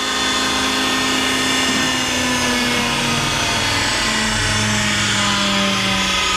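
A Landis universal cylindrical grinder runs steadily, giving a continuous loud mechanical whir with a constant hum and broadband hiss that stays even for the whole stretch, with no voices.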